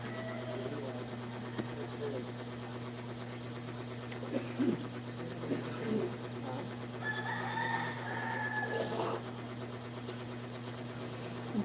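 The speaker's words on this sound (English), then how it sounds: "Glad I don't hear chicken and rooster like you." Chickens and roosters in the Philippines cluck and crow at a distance over a constant low mechanical hum, with a few louder calls rising toward the end.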